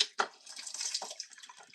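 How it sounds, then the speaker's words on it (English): Water runs from a Moen faucet into a deep utility sink, a steady splashing hiss with a couple of brief splatters near the start and no talking. "I love this faucet."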